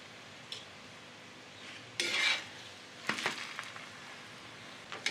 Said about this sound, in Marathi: आपली तिळाची पोळी अशी खरपूस छान भाजून झालेली आहे.